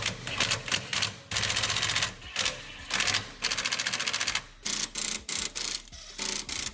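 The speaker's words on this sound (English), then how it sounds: "Turn my impact on the lowest setting." An impact wrench hammers bolts on a Toyota pickup's lowering blocks, firing in loud rapid rattling bursts separated by short pauses, close up.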